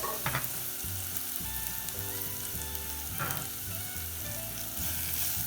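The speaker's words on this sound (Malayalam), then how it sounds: "അതിലോട്ട് അല്പം നെയ്യ് ഇട്ട് കൊടുത്തിട്ടുണ്ട്. അതിലോട്ട് സവാള ഇട്ട് കൊടുക്കുക." Onions sautéing in ghee in a pan, a steady close sizzle broken by rhythmic stirring scrapes of a spatula, no voices.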